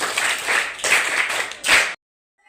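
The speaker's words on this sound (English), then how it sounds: "Please clap for them." A short burst of clapping from a small group, fading and swelling twice before stopping abruptly.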